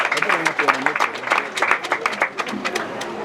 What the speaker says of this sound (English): Let's clap for His Excellency for that